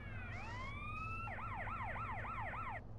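An ambulance siren in Grand Theft Auto: San Andreas sweeps upward a couple of times, then wails in a fast, steady up-and-down pattern, loud and close, over a continuous low rumble.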